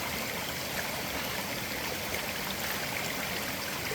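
A natural mountain stream in monsoon country rushes continuously nearby, a dense steady hiss of flowing water with no pauses.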